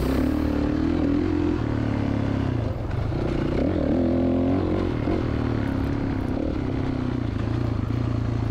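A motorcycle ridden around the ponds in 4th or 5th gear, its engine holding a steady drone with slight pitch shifts as it changes speed, close and continuous and heard without talk.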